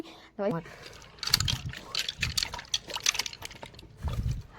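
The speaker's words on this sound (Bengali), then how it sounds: "এবার হাতটা ধুয়ে নি" Hands being washed under water after soap has lathered, heard as uneven splashing and trickling close by, mixed with short vocal sounds and chatter from people nearby.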